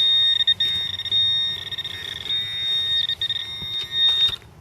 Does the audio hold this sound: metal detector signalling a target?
yes